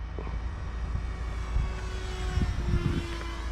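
Small RC model F-18 jet flying outdoors over a parking lot, a steady whirring engine drone with slight rises in pitch as it passes, moderately distant and continuous with no talk.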